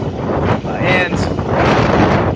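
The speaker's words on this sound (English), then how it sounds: "That's one of those stronger gusts." Loud, blustery wind from Hurricane Irma in Key West buffets the microphone in rough gusts, rumbling and roaring unevenly throughout.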